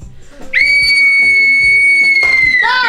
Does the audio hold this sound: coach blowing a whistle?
yes